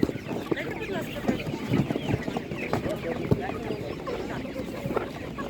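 Broiler chickens cluck in a bustling animal market, scattered close clucks and squawks over a busy background while people talk nearby.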